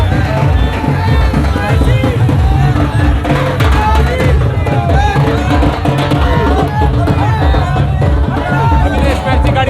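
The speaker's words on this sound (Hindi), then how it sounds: "देखिए संगम चौराहे पर उमड़ी भीड़ विधायक अविनेश महर्षि के स्वागत में पहुँचने ही वाले हैं।" A dense crowd packs Sangam crossing in Ratangarh to welcome MLA Abhinesh Maharshi: a steady, loud hubbub of many overlapping voices and chatter, close and continuous throughout, with faint hints of cheering.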